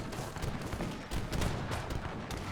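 Light cannons firing in a real-time strategy battle in Age of Empires III, a dense, continuous barrage of booming shots and thuds layered over one another with no clear gaps.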